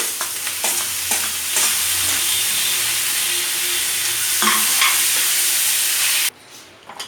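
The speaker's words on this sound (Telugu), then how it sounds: "కొంచెం లైట్గా వేగుతూ ఉన్నాయి కదా, ఇప్పుడు జీడిపప్పు వేసుకోవాలి" Cashews fry in a pan with onions for potato kurma, a dense steady sizzle broken by a few stirring scrapes, then dropping away sharply near the end.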